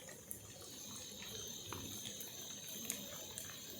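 Tap water runs steadily into a cooking pot being washed while making mutton korma, a faint continuous stream with small clinks and splashes scattered through, no voices.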